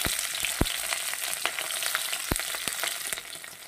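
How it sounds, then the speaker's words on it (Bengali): Garlic and chili sizzling in hot oil, a steady broadband crackle with a few sharp pops standing out, close and continuous with no voices. "তেলটা গরম হয়ে গেছে, এই পর্যায়ে আমি দিয়ে দেব একটু রসুন আর লঙ্কা"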